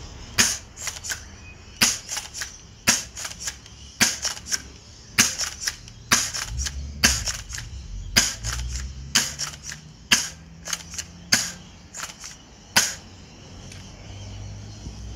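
An M97 gel blaster toy gun fires gel rounds in a long, steady series of sharp snapping shots, roughly one per second, close and loud over a low background hum.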